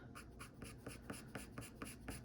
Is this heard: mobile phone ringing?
no